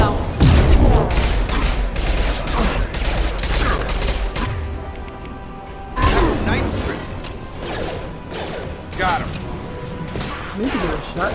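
Loud, dense bursts of rapid gunfire in a Mass Effect 2 firefight, with repeated volleys and impacts near and far, mixed with voices talking over the action.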